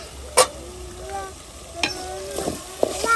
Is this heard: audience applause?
no